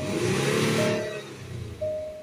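A Range Rover Sport 3.0 engine, fault codes showing for MAP sensor and throttle actuator, revs up as the vehicle accelerates, a steady close-up engine drone that dips briefly and then swells again.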